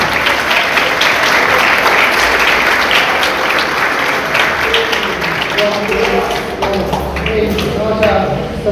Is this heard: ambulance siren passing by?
no